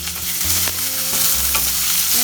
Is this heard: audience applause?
no